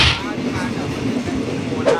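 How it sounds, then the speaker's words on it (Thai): Train passing nearby, a continuous rumbling, rattling rail noise with broadband roar and a faint squeal near the end, steady throughout. "รถไฟมาจากประเทศเม็กซิโกนะ"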